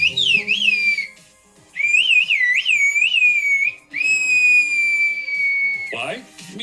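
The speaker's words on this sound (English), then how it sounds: "farmers living in remote mountains in the north of Turkey have been whistling messages over long distance" Loud, sliding whistled phrases, rising and falling and held in long tones, carrying over distance as whistled-language messages from farmers in remote mountains of northern Turkey; no talking.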